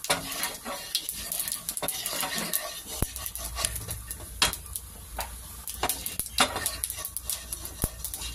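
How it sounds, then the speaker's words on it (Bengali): Hot oil with whole cumin seeds crackles and sizzles close by, broken by sharp irregular pops and clinks of a utensil against the pan, with no talking. "জিরেটা একটু ভাজা ভাজা হোক"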